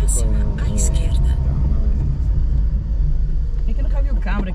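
A delivery vehicle rumbles past with a deep, steady engine drone, and people talk over it.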